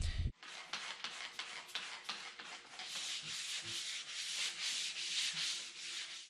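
Close, steady abrasive rubbing as a car windshield is polished with 2500-grit sandpaper and then a blue pad with baking soda, a continuous gritty scrubbing that swells and eases with each stroke.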